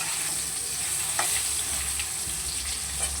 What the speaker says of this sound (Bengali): আলুগুলোকে একটু ভেজে নেব এই অল্প তেলেই করছি